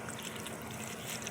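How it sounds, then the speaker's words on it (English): Leaves being rubbed together by hand in a container of water, giving a soft, steady wet swishing and trickling that runs quietly throughout. "I'm going to wash the leaves"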